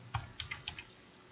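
Computer keyboard keys tapped in a short, uneven burst of about five or six quiet clicks, close by and alone in a dim room hum.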